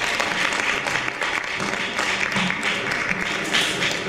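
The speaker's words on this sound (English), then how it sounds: "A round of applause." Church congregation applauding at a Mountain of Fire and Miracles service in Milton Keynes, a dense, steady roomful of clapping that carries on for the whole stretch with no clear speech over it.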